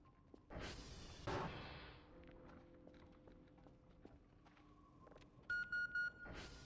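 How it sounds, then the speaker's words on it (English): Faint electronic beeping in the game Voices of the Void, a short cluster of tones near the end after quieter clicks, footstep-like thuds and scattered game noises. "Beep, beep, beep."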